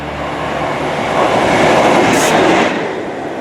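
A train passes at Trent Valley Railway Station with a loud, steady rumble and rail roar that swells midway, a brief high squeal of wheels briefly rising above it.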